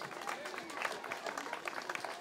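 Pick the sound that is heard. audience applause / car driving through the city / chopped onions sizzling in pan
audience applause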